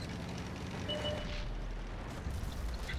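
Explosions set off by a tank running over small objects in a tank video game, heard as a continuous low, rumbling roar with a few brief flares, fairly loud, with no talking.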